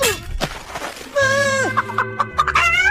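A cartoon chicken clucks close by in a rapid run of short, choppy calls after a drawn-out squawk.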